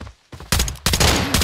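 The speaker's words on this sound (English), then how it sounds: "What the fuck was this guy shooting?" Gunfire in the video game Arena Breakout: after a brief quiet gap, loud close bursts of rapid automatic shots crack out in quick succession.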